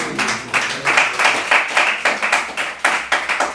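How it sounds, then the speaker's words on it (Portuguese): A church congregation at an evening service claps loudly and continuously for several seconds, a thick wash of many hands with a slightly rhythmic pulse and no voices on top. "Você pode aplaudir ao Senhor com o seu melhor?"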